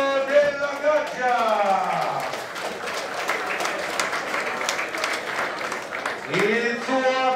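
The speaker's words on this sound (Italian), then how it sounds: "Un applauso per Marco Della Gaggia." An arena crowd applauds a fighter being introduced before a ring bout, a steady wash of clapping sustained for several seconds while an announcer's voice rises over it at the start and again at the end.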